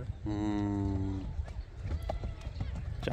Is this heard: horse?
yes